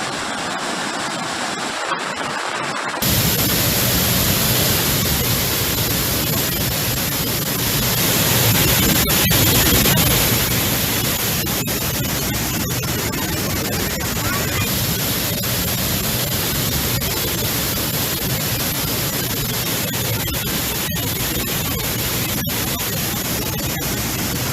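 Heavy floodwater from torrential rain in Kerala rushes into houses as a loud, continuous broadband roar, steady throughout with a slight swell near the middle and no voices.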